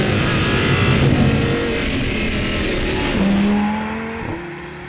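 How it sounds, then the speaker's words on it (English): A 2013 Audi R8 V10 coupe accelerating hard: a loud, close, continuous engine roar that climbs in pitch through the revs, with a brief shift-like dip near the end. "it makes this car not only accelerate like a proper supercar should, but sound like one too."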